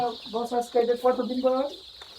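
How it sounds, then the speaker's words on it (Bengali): A steady, shrill chorus of one-week-old native chicks peeping on a rice-husk floor in a poultry house runs throughout, with louder voiced sounds in the foreground over it. "এইটা হচ্ছে হলো আপনার দেশি মুরগি বাচ্চা"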